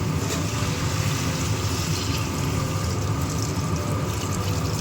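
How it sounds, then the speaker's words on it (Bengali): Water pours steadily into a pot of cauliflower and potatoes cooked down with spices, making a constant, fairly loud gushing wash for about five seconds, with no talking. "এবারে দিয়ে দেবো জল পরিমাণ মতন জল দিয়ে দেবো"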